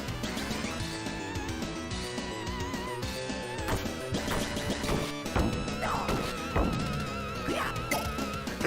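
Glass smashing in the Sega game Teenage Mutant Ninja Turtles: The Hyperstone Heist, repeated crashes and thwacks over busy game music and effects at steady loudness.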